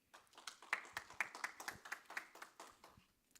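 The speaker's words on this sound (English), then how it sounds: "round of applause for our speaker" A small audience in a JuliaCon 2024 conference room claps for a speaker, a sparse, fairly quiet round of distinct hand claps lasting a few seconds before dying away.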